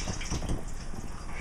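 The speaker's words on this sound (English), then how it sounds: "Just open them, turn on the water." Tap water runs to rinse strawberries, a soft continuous splashing stream, faint and brief.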